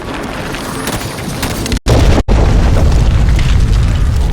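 Heavy explosions boom as Banshee aircraft fire on a Kraken in the video game Halo 5, a loud continuous roar of blasts with two brief cut-outs in the middle and no speech heard.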